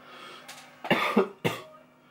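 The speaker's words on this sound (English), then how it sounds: "Got a bit of a cough." A person coughs several times in quick succession, close and fairly loud, with short pauses between the harsh bursts.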